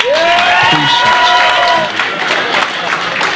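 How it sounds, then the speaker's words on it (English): A comedy club audience at the Laugh Factory applauds and cheers loudly for a stand-up comedian, with a dense burst of clapping and crowd shouts that tapers slightly toward the end. "as much as you want to clap for me, continue to keep clapping"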